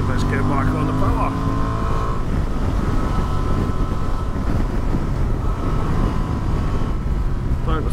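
A Honda XL750 Transalp motorcycle accelerating on a road past a golf course, its engine droning loudly under heavy wind rush, with a rider's voice at the start.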